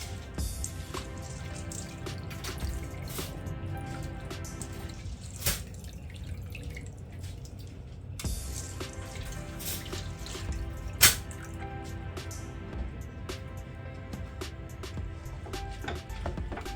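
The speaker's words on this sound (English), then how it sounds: "So we're adding the rice now. Let me use my hand to make it quicker." Rice is tipped by hand into a pot of water while cooking mackerel jollof rice, giving soft, close pattering and dripping splashes that continue quietly over a low background hum.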